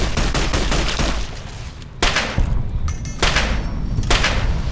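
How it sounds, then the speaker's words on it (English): Rapid gunfire from a companion character in the Fallout video game, a dense crackling fusillade of overlapping shots with a few heavier thumping blasts, loud and continuous throughout. "Raul's shooting at something"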